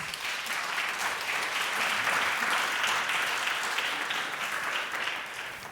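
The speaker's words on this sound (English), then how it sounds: "Big round of applause" An audience at a Nordic forum panel on Gen Z breaks into a full round of applause, a thick, sustained roar of many hands that swells and stays loud before easing slightly at the end.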